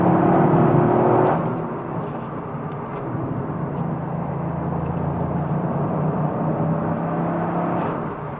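A Toyota Yaris GR driven through corners, its engine note climbing and holding in steady tones heard from inside the cabin, loud at first then settling into a sustained hum with road noise underneath.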